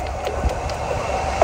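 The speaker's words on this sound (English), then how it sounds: "Also, there's a train coming." A train rumbles past nearby at an outdoor spot, a steady broadband roar with faint rail clatter running throughout, no talking over it.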